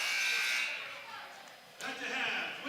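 An end-of-quarter buzzer sounds in a high school basketball gym, Cumberland versus Williamstown, a sustained harsh tone over crowd noise, fading and then followed by a renewed surge of crowd sound.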